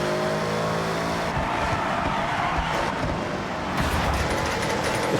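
A Jaguar XJ220S driven in Forza Horizon 6 roars steadily at high revs, engine loud and close, with tire noise and shifting pitch as the car accelerates and corners.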